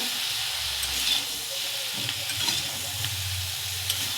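Dried fish frying in a pan with winter vegetables such as broad beans, eggplant and radish, giving a continuous hissing sizzle with occasional soft stirring scrapes, steady and close, no speech.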